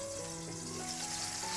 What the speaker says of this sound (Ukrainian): Смажимо помідори декілька хвилин до готовності з обох сторін.